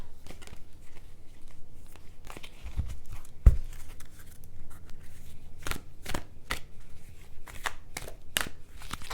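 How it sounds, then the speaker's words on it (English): A deck of love and light oracle cards being shuffled by hand, soft riffling with sharp, quick snaps recurring at irregular intervals, close and fairly quiet with no talking. "let's pull some of these love and light cards"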